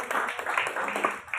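A room of listeners at a poetry-reading event applauds, brisk uneven clapping from many hands at moderate distance, steady through the short moment.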